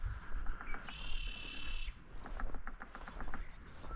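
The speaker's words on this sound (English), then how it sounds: "We got a woodpecker taking care of the building for us." A woodpecker pecks at an old abandoned building in a Milwaukee Road railroad ghost town. A quick run of sharp taps follows clear whistling bird calls in a quiet outdoor setting.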